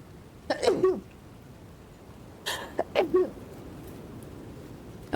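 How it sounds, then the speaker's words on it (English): Two short, explosive bursts a couple of seconds apart, each a sharp nasal sneeze-like expulsion over quiet background hiss. "Big sneeze."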